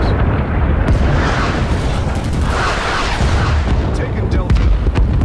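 Loud, continuous rumbling blasts of bombs in Rising Storm 2: Vietnam, with heavy booming explosions swelling over dense battlefield noise and scattered sharp cracks throughout.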